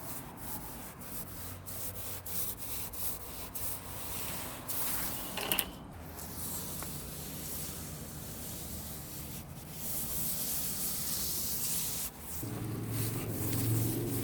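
Wood coating being rubbed and brushed onto a modern wooden planter, a steady close scraping and swishing that continues throughout with a short louder burst midway and a rougher stretch near the end.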